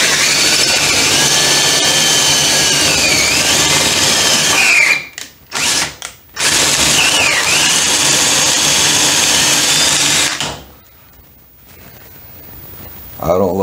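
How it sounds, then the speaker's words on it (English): A power drill fitted with a 3/8 dowel bit with a starter tip bores into a live edge wood slab for a waterfall bench. It makes a loud, steady grinding whine, broken by two brief pauses midway, then cuts off and leaves a quiet tail. "this is a special bit with the starter tip on the end of it to help it get into the wood"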